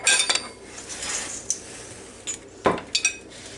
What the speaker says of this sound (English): I may have to eat this with a spoon